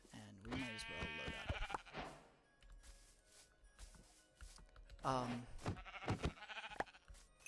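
Sheep bleating in a video game, several bleats near the start and again around the five-second mark, mixed with someone talking over them.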